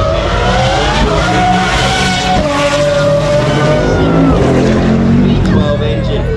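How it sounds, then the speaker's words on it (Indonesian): Sports cars at the Adelaide Motorsport Festival roar loudly past with revving engines and a brief tyre squeal, a continuous loud mix with crowd noise around. "Mobil-mobilnya gila banget."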